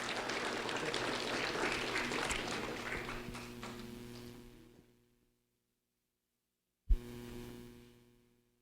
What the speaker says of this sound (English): a round of applause for Curtis Anderson